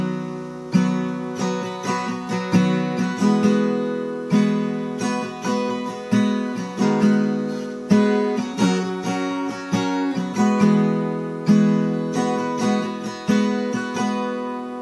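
Acoustic guitar with a capo strums the intro chord progression of a song, a steady rhythmic strum of bright, full chords, close and clear with no voice over it.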